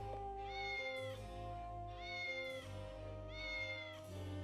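A video game cat meows three times in an even rhythm, each call long and clear, over a low steady musical hum in the background.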